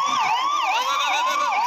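An ambulance siren at a boat capsizing scene on Harni Lake near Vadodara, Gujarat, wails loudly and close by in rapid repeating up-and-down cycles, alone without talk.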